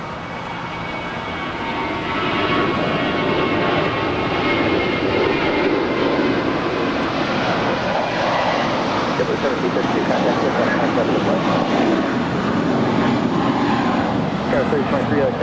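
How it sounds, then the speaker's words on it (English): A seven-year-old JetBlue Airbus A321 departs on its takeoff roll, a loud, steady broadband jet roar that swells in the first two seconds and then holds strong throughout, with a voice talking faintly underneath. "This is Fly in mint condition, departing to Salt Lake City, flight 1732 with JetBlue Airways. It's a 7-year-old Airbus A321."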